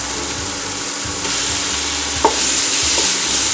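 Tomato masala with ginger-garlic paste fries in a pan for egg sukka, a close crackling sizzle broken by scraping stirs and a few sharp spoon knocks against the pan.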